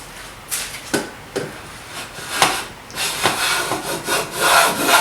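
A Buckeye Saw Vice jack plane takes shavings from a wood board in repeated close, rasping strokes, each a short hiss with a sharp start, the later passes longer and denser.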